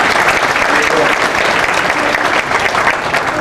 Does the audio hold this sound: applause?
yes